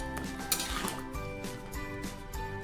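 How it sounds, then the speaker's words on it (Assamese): Sun-dried taro leaves are stirred in a pan for a fish-head and tomato dish, giving soft scraping and faint metallic clinks with a low sizzle, quiet and close, over a steady tonal background. "কচু শাকখিনি মই লৰাই দিছোঁ।"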